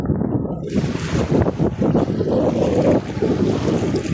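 Strong sea waves churn and rush continuously along the Kuwait City seaside, with heavy wind buffeting the microphone, loud and close.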